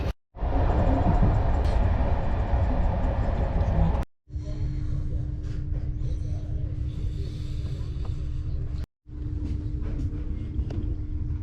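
A loud, steady rumble of a sleeper train running on rails between İzmir and Tatvan, with a low mechanical hum, broken by two abrupt cuts, heard from inside a moving carriage.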